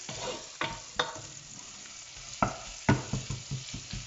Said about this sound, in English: I first go in with my onions, let them cook